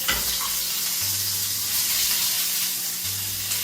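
Spinach sizzles and fries in a hot pan with a steady, bright hiss that holds evenly throughout, close and loud, with a low hum beneath it and no talking.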